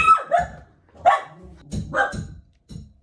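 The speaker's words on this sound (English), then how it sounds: "I know it's picking up the dog" A dog barks nearby in a series of sharp, loud barks, about five or six in irregular pairs separated by short gaps, with no other sound underneath.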